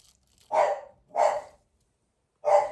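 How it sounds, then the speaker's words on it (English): A dog barks three times, close and loud, with a short gap between the first two and a longer pause before the last. "And that's the dog barking."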